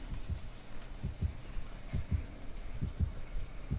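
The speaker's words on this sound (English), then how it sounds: "I'm hearing the heartbeat" In the Dead by Daylight video game, a steady heartbeat thumps in low, paired double beats repeating about every second at moderate volume, with no talk over it.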